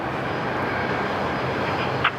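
A Boeing 737 MAX jet departing Sydney Airport, its engines a broad, steady, distant roar that holds level throughout, with a faint brief chirp near the end.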